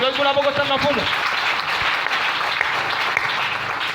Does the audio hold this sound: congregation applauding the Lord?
yes